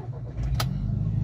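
A Volkswagen Scirocco engine cranks and briefly catches, a close, loud low churn with a sharp click partway through before running steadily to the end.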